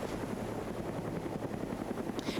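Helicopter flying around in a video game, its rotor chop a steady, moderately faint drone that holds throughout without any voices.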